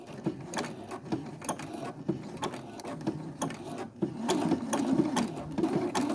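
A sewing machine runs continuously while stitching a seam, switching between stitch types and back tacking, with a steady mechanical whir and rhythmic needle clatter close up, no talk.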